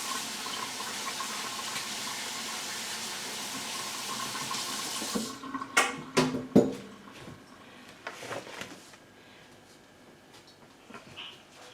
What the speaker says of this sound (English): let me just get rid of this, wash my hands, I'll be right back